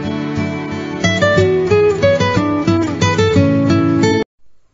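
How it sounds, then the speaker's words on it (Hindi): A loud, clear electronic Nokia mobile phone ringtone melody of stepped synthetic tones plays for about four seconds, then cuts off abruptly. "इसका रिंगटोन तो भैया आज भी दिल को सुकून देता है"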